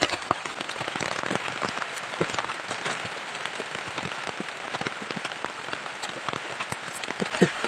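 Heavy rain pours down outdoors where a large tree is being cut, producing dense constant patter with sharp drops splattering on a plastic cover, loud and steady throughout.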